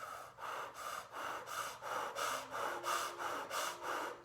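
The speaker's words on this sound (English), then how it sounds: "we will be breathing in and out through the open O-shaped mouth." Kundalini breath of fire done through an open O-shaped mouth: quick, forceful, equal inhales and exhales in a steady, even rhythm of about eight cycles. Each breath is an airy rushing puff, close and fairly faint, with no talking.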